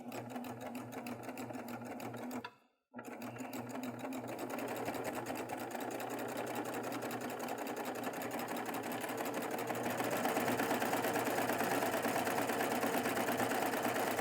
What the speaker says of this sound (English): And then I'm just going to continue stitching.